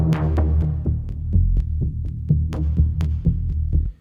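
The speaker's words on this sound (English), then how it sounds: "plucky bass line, which will sound like this." A groovy, plucky synth bass line for minimal techno pulses in short, punchy low notes with a bouncing rhythm, heard alone and up close.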